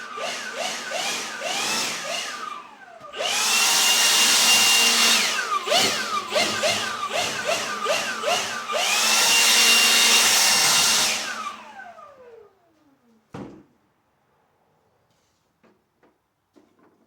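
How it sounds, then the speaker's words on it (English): A blower whooshes in a woodworking shop while clearing sawdust around a mobile miter station, with loud bursts that swell and fade as it spools up and down, then it winds down to near silence. "I'm going to get the blower out"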